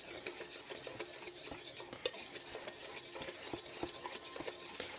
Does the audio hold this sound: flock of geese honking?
no